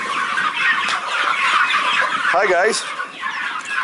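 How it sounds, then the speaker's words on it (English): Farm turkeys and chickens gobble and cluck in a noisy, continuous flock chorus close by, with a short burst of sharper calls near the middle, while a man briefly greets listeners over the birds. "That's my turkeys."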